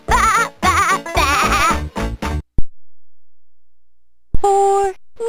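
Synthesized sheep bleats from a 2005 LeapFrog LeapStages piano toy, several short 'baa' calls in quick rhythmic succession, then a pause and another electronic tone, loud and close.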